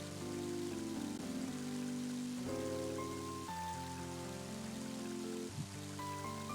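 Rain effect in the video game Mother 3: a quiet, even wash of pattering drops running under shifting held chiptune-like music notes, steady without pause for several seconds.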